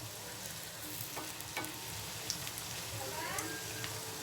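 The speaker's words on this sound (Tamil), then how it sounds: "பாருங்க இந்த மாதிரி எண்ணெயில போட்டுறலாம்." Pieces of bread for Bread 65 fry in hot oil with a steady, close sizzle and occasional pops and crackles.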